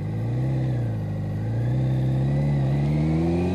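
Shaft-drive motorcycle cruising along, a steady mid-pitched engine drone that slowly climbs in pitch as it speeds up, continuous and close with wind rumble underneath.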